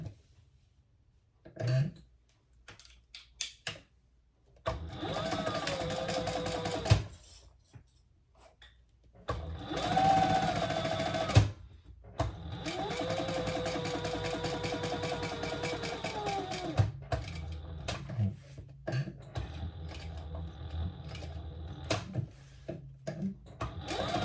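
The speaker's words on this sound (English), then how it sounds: "let's top stitch that" Sewing machine topstitching a crossbody bag, running in long steady motor-and-needle stretches broken by brief stops, with clicks and handling noise in the gaps, close and fairly loud.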